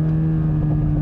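A 2021 Toyota Supra 2.0 with its four-cylinder engine holds a steady, loud drone close by, a strong even hum with little change in pitch across the brief moment and no voices over it.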